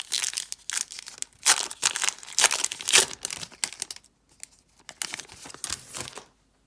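Crinkly foil wrapper of a 2025 Topps Archives hobby trading card pack being torn open and crumpled, a run of close, sharp crackling bursts that trail off into a few quieter rustles before stopping.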